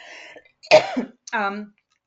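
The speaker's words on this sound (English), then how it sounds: "I felt this massive cough come up." A single harsh, loud cough bursts out close by, followed by a short throat-clearing sound and a brief voiced exhale.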